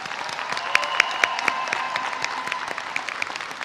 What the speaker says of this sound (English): Please give these students a big round of applause.